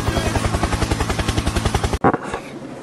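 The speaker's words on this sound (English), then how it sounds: "Helicopter! Helicopter!" A video-game helicopter thumps close and loud with a fast, steady rotor chop for about two seconds, then cuts off abruptly into a brief burst of different noise.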